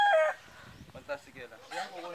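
A sweater-breed gamefowl rooster gives a short crow at the start, then people talk close by while the rooster's clucks and calls continue faintly in the background.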